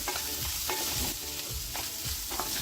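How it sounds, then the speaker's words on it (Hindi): Pea paste roasts in oil in a hot kadhai, sizzling steadily up close while a spoon scrapes and stirs it in repeated strokes. "अब डाल देते हैं मटर वाला पेस्ट। अब इनको भूनेंगे सिर्फ 2 मिनट।"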